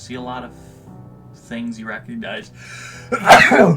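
A single sharp sneeze bursts out near the end, loud and close, following a stretch of people talking in a casual conversation.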